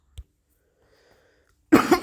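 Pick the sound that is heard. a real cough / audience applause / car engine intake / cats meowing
a real cough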